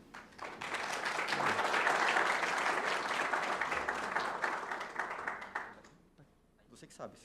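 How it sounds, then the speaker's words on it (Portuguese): Audience applause rises, holds as a dense crowd clapping for several seconds, then dies away, with a few voices speaking near the end at a talk about ICO fundraising. "Fred, por favor, aplausos."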